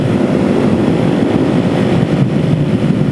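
A 470 stroker motorcycle engine runs steadily at higher revs at 65 mph into the wind, a loud continuous drone mixed with heavy wind rush and no breaks.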